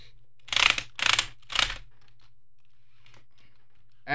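Three quick bursts of computer keyboard typing, clattering key presses grouped in short clusters, then near silence with faint soft clicks afterward.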